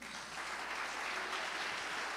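A church congregation clapping for Jesus, a dense, steady applause sustained throughout, heard at moderate distance.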